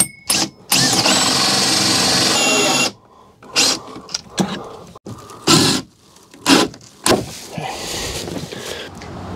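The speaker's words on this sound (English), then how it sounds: "I'm going to go ahead and drill my hole through this panel" A power drill bores a hole through a vehicle panel beam to route an antenna cable, loud sustained whine for a few seconds followed by repeated short bursts of drilling and scraping.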